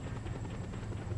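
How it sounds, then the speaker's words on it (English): Helicopter arriving in the video game Just Cause: a steady low rotor drone with pulsing, fairly loud and continuous throughout. "Thank you for my murder helicopter."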